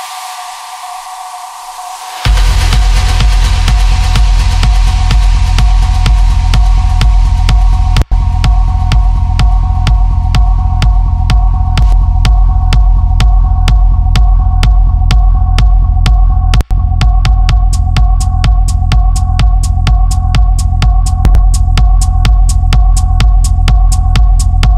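A loud, dense EDM master with a steady pulsing beat kicks in after a short silence and runs continuously, processed through UAD ATR-102 tape compression, with no voices over it.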